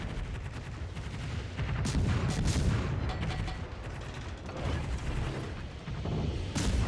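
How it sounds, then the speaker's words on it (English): Naval gunfire in World of Warships, with dense booming salvos and mechanical rumble running continuously, loud and close, with several heavier bursts standing out. "Now I can get a few shots into that CV too while I'm at it."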